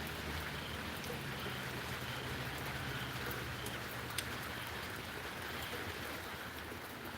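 Rain falls outside in the dark woods during a night storm, a steady, even hiss of drops on surfaces, faint and constant throughout with no voices or other sounds.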